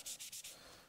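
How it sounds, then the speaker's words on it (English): A cloth rag rubbing excess dye off a wooden guitar body, three or four quick brisk wiping strokes close up, quiet and alone. "I'm just using another rag here just to try and take off any excess that's still on there"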